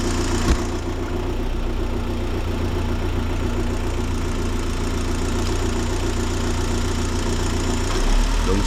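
Car engine idling steadily and loudly up close during a head gasket check beside the coolant reservoir, a continuous low rumble with a slight rise near the end.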